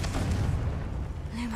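A Confringo blasting spell going off in the Hogwarts Legacy video game makes a loud, deep booming burst that rolls on for over a second, with a voice heard briefly.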